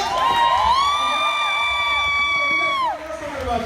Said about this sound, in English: Everybody's clapping for you.